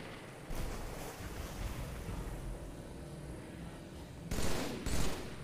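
Rapid gunfire bursts in a shooter video game aimed at a Banshee vehicle, rumbling and dense at the start and swelling again in a loud volley near the end, with no talking.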